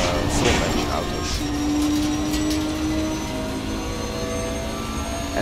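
The front-mounted V6 of a Nissan GT-R Nismo GT3 race car in Assetto Corsa Competizione drones loudly and steadily, its whining pitch climbing as it accelerates, with a voice faintly underneath.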